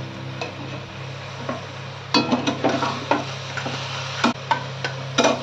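Eggplant pieces rubbed with turmeric and salt fry in a pan with a soft, steady sizzle, broken by sharp clinks and scrapes of a spatula stirring against the metal.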